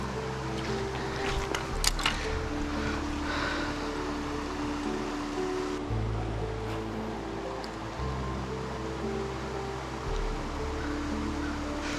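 Water of a mountain creek rushing steadily in the open as a trout and smallmouth angler moves along it, a continuous broadband flow with a low drone and occasional light knocks and rustles.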